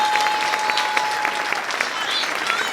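A church congregation claps their hands in praise, a dense, steady wash of applause filling the room, loud and continuous with a faint sustained tone running underneath.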